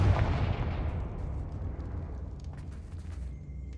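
A Confringo blasting spell in Hogwarts Legacy goes off as one loud boom at the start. It fades into a long, low rumble with scattered crackling debris and faint chimes.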